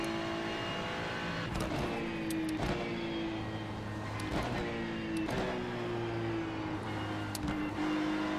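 A faster race car closes in during an iRacing IMSA Open session at Suzuka, its engine note rising and falling through repeated upshifts and revving, steady and fairly loud with no voices.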